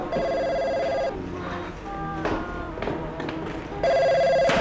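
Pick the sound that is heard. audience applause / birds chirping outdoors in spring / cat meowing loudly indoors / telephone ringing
telephone ringing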